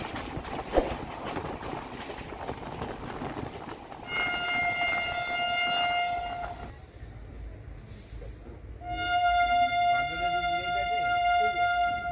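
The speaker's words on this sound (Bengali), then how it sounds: "কুয়াশার জন্য ট্রেন খুব আস্তে আস্তে চলছে মাঝে মধ্যে দাঁড়িয়েও যাচ্ছে" The Shalimar–Puri Jagannath Express creeps slowly through fog, sounding two long, loud horn blasts separated by a short pause over a low rolling rumble and faint background voices.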